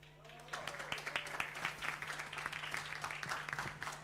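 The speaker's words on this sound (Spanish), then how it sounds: "Recibimos entonces con un fuerte aplauso a Ricardo Lira." Applause from an audience at a talk on disruptive technologies and the future of entertainment, as the next speaker is welcomed. It is a steady, moderately distant clapping that lasts throughout, over a constant low electrical hum.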